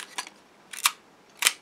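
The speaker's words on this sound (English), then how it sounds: "That's the vertically running shutter." Three sharp mechanical clicks of a camera's vertically running focal-plane shutter fired at 1/125 second, spaced roughly evenly apart, close and alone with no talk.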